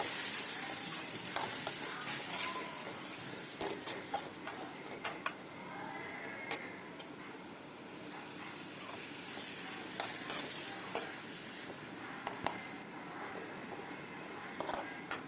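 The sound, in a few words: tomatoes sautéing in a pan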